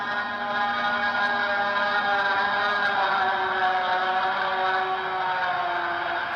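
A steady, droning trumpet-like harmonic tone heard in the sky, holding level for several seconds with layered overtones over a faint wash of background noise.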